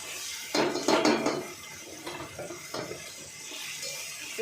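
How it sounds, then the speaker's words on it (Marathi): Brinjal and potato vegetables are sautéed and stirred in a pan. Metal spoon scrapes and clinks come in close, uneven bursts over a soft background sizzle. "व्यवस्थित भाजी परतून घेतली ना ती एकजीव होते"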